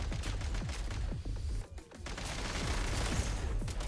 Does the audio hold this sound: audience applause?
no